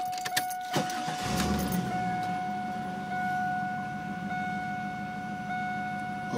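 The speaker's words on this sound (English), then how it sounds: "Let's crank him up" A 2002 Chevrolet Camaro SS with 98,000 miles cranks and fires, a brief starter burst followed by a steady idle with faint whine tones, heard close with no talking.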